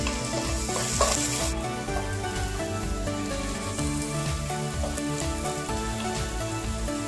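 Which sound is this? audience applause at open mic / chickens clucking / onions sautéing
onions sautéing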